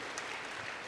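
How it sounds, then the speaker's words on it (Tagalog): A church congregation claps together in steady, dense applause during a worship service, a brief wash of many hands heard without talk. "Isa pang malakas na palakpak sa Diyos sa buhay."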